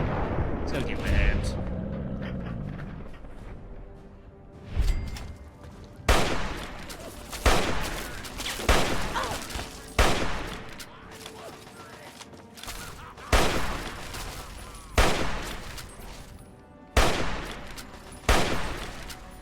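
Gunfire in Fallout 3 rings out as a series of loud, sharp shots spaced a second or two apart, each with a booming tail, alongside a brief stretch of game noise at the start.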